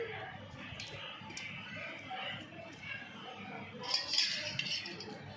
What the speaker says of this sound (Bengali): এটা কিন্তু আধ বাটি দুধের উপরে দিয়ে সব একসঙ্গে মিশিয়ে নিচ্ছি